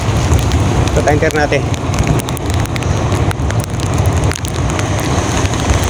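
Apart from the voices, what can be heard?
rain falling in Ternate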